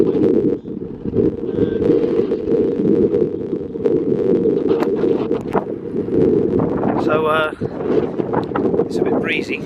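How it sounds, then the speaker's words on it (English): Gusty wind buffets the microphone outdoors beside a truck on a breezy UK day in April, a steady loud low roar throughout with someone talking over it. "it's a bit breezy"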